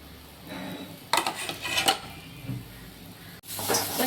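Coconut, fennel and star anise dry-roasting in a pan, with intermittent scraping and clinking bursts of a utensil against the pan between quieter stretches.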